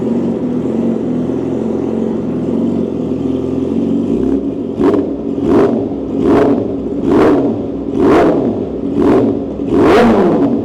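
A Yamaha R6 600cc motorcycle engine idles steadily, then revs up in six sharp, evenly spaced bursts, each climbing and falling back, loud and close.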